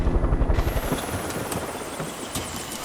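A helicopter in the Far Cry 5 video game gives off a continuous low rotor thrum with a steady pulsing beat, fairly quiet and alone.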